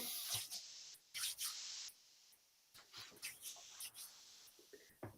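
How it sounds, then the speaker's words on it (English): A few short hissing bursts from a cosmetic spray, close and fairly quiet, separated by brief pauses with faint rustling in between. "I'm going to spray."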